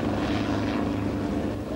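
A helicopter flies at a 1993 air show at Cambrai air base, a steady loud rotor and engine drone with a throbbing low hum.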